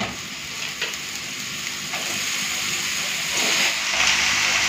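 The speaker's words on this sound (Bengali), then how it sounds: "তো পেঁয়াজটা লাল করে ভাজা হয়ে গেছে, দিয়ে দেবো কেটে রাখা লাউ" Chopped bottle gourd sizzles and fries loudly with browned onions in a hot pan, a steady close hiss with occasional stirring scrapes.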